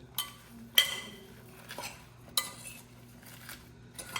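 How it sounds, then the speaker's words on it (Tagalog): Fresh salad tossed in a bowl, with a few sharp utensil clinks against the dish at irregular moments over soft, quiet mixing rustle. "Halu-haluin lang. Para mag-combine lahat ng mga pinaglalagay natin."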